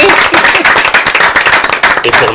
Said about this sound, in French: Vous allez vous applaudir vous-même.